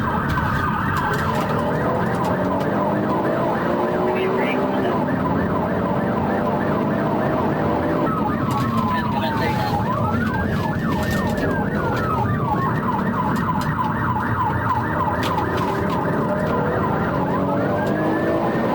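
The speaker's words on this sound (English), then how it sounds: "a trooper activated his emergency lights and sirens" A police car siren wails loud and close during a high-speed chase, sweeping up and down continuously over steady engine and road noise, with no talking.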